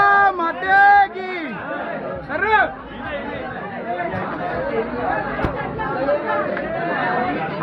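A dense crowd of pilgrims queuing at Ekvira temple: overlapping chatter and raised voices, with a brief burst of chanting at the start, then a steady babble of many people close around.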